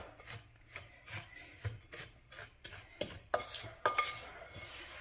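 Thick homemade Mounds bar mixture of coconut and sweet filling being stirred in a bowl, a series of rhythmic scraping, rasping strokes with occasional sharper clinks of the utensil against the side.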